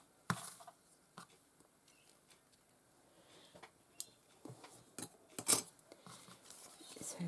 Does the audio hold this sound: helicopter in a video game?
no